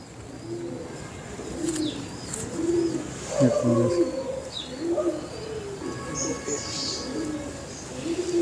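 Several pigeons coo in soft, repeated low calls close by, with faint chirps mixed in.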